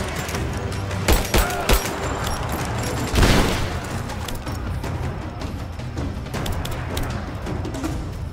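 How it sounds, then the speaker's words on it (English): A grenade blast goes off amid sustained gunfire in the video game Rise of the Tomb Raider, one dull booming burst cutting through scattered rifle shots and rumbling battle noise. "Throwing a grenade!"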